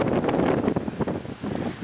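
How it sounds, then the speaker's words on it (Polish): Wind gusts buffet the microphone on an autumn walk outdoors in the UK, a close, rumbling rush that rises and falls in uneven puffs. "wiatr wieje"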